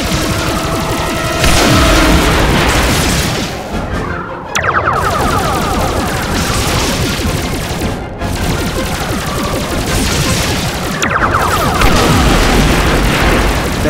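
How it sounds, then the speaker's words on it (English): Starship weapons fire and heavy explosions from a Star Trek space battle game, a loud continuous barrage of booming blasts and bursts with sharp impacts near 4.5, 8 and 11 seconds. "damn ship is out there taking shots at us"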